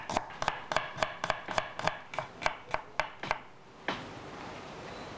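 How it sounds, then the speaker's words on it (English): Knife chopping shallot and garlic on a cutting board for pork in sweet soy sauce: about a dozen crisp, evenly spaced cuts close up, then a pause and soft scraping. "And now I'm going to slice the shallot and garlic."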